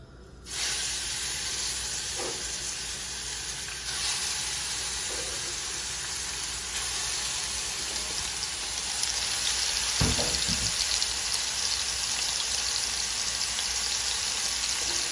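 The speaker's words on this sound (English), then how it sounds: "we're gonna come in right here and start putting our pork in" Pork dropped into a hot pot for Cajun jambalaya, setting off a loud, steady sizzle and hiss that runs the whole time with a few brief crackling bursts, no voices.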